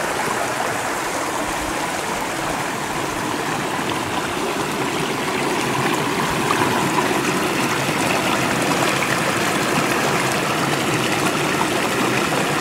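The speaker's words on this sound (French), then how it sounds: "Donc voilà comment coule le petit ruisseau en ce moment." A small stream flows nearby with a loud, continuous rushing and gurgling that stays steady throughout, with no voices.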